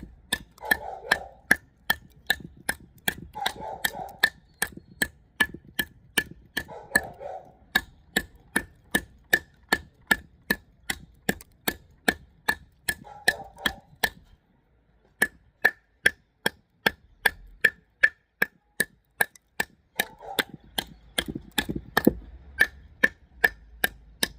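Repeated sharp chops of a Worktuff Nomad EDC Bushcrafter saber-grind knife biting into wood, steady closely spaced strikes at close range with a brief pause partway through.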